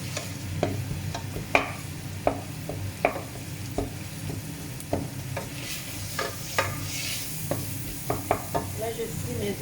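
Vegetables and onions frying in a pan for meat spring rolls, with a steady sizzle broken by repeated sharp scrapes and clacks of a utensil stirring at close range, no talking.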